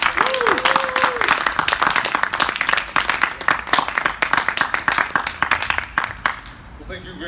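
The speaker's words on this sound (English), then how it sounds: "So if I can get a round of applause for Kevin De León." A crowd at a political event gives a round of applause, dense clapping with some distinct hand claps that carries on for several seconds before thinning out, with voices murmuring underneath.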